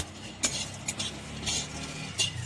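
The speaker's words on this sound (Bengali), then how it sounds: "একদম সামান্য হালকা করে ভাজতে হবে।" Whole spices dry roasting in a pan for ground masala, with sharp scraping and clinking strokes of a spoon against the metal every half second or so over a faint steady hiss, close up and without talk.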